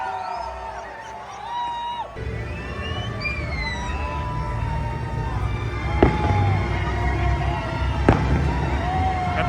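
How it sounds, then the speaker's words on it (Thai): Firecrackers crack and pop among a crowd celebrating New Year's Eve near the Angel of Independence monument in Mexico City, with whistling rockets and two sharp bangs over a steady murmur of people. "จุดพวกไฟเย็นอะไรกัน เล่นประทัดกันนิดหน่อยนะฮะ"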